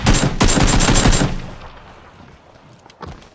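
Gunfire in the battle royale video game PUBG: a dense, loud burst of rapid automatic shots for about a second, then fading echoes and a single softer report near the end.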